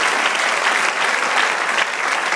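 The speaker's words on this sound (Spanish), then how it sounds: "De un aplauso al Señor." A church congregation gives a dense, even round of applause, loud and close throughout the short stretch, with no talking.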